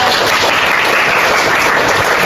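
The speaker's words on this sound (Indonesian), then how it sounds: "Kita beri tepuk tangan untuk kelompok 2." A classroom full of students claps for a student group after its presentation, a dense, steady burst of applause filling the room for about two seconds, with no talking over it.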